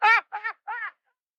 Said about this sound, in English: My rubber duck.